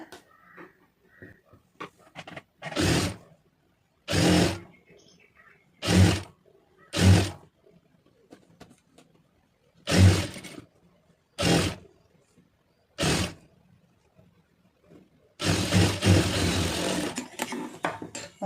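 A sewing machine stitches a seam on a lined blouse in about eight short bursts of running separated by quiet pauses. The final run is longer, and the machine sounds close.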